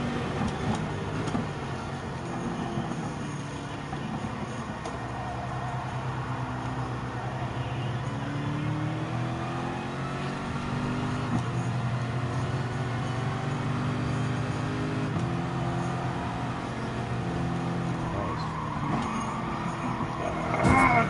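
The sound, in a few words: race car engine in the video game GT Sport at Nürburgring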